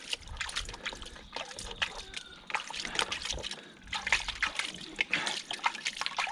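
Water sloshes and splashes in a gold pan as sludge is washed, coming in irregular close bursts of swirling, trickling and splattering with short quieter gaps between them.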